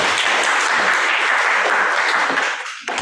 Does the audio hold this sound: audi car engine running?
no